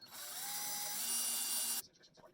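A power drill bores into the back of a walnut dowel with a steady high whine for nearly two seconds, then cuts off, leaving faint handling noise.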